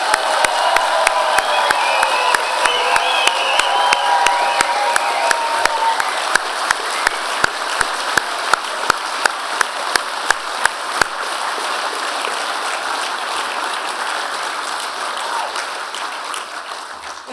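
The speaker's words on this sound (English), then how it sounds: "I hope you will all join me in a huge round of applause for our amazing graduate students" A large convocation crowd applauds and cheers graduate students at a 2025 fall ceremony: loud, dense clapping with whoops that runs on steadily, later settling into more distinct, rhythmic claps as it slowly fades.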